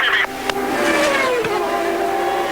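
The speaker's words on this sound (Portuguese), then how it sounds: "Vai voltando a pista aí o Michael Andretti" A CART race car heads back onto the track during the 2000 race at Laguna Seca, its engine note rising and falling over a nearby broadcast commentary voice, with a pitch that sweeps as it accelerates.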